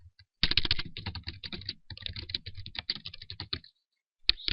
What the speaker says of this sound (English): let me go in here and type in some content